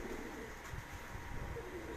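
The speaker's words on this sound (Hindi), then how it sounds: "एक कबूतर बैठा जी" Pigeon cooing on a rooftop in Gujranwala during a Baisakh pigeon-flying championship, low soft coos over steady outdoor noise.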